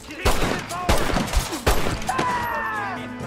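Gunfire in Red Dead Redemption cracks out in several sharp loud shots in quick succession, followed by game sounds and a voice.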